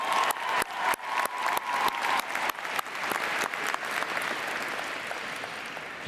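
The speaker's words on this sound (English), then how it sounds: "Let's give them a big round of applause." Large crowd applauding families and supporters at the University of Northern Colorado 2023 spring graduate commencement, a loud, sustained burst of clapping with sharp individual claps up front that settles into a dense, continuous roar.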